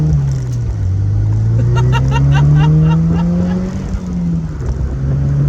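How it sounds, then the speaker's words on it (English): A Pontiac Solstice GXP Turbo fitted with a Dynaflow exhaust drives under load, its loud, steady engine drone rising slowly in pitch, easing off, then picking up again, heard from inside the car. "Even with the Dynaflow exhaust on here, this thing just flies."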